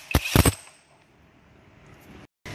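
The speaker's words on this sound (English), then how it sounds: "we put a large 35mm socket on the pinion with a rattle gun under it" A pneumatic rattle gun on a 35mm socket undoes the pinion nut of a Subaru 4EAT automatic transmission: two sharp bursts of rapid hammering close up, followed by quiet shop ambience.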